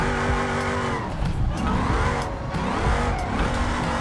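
A car drifts with the handbrake in the BeamNG Drive driving game, engine droning loudly while tires squeal and skid in wavering bursts, close and continuous with the revs rising and falling.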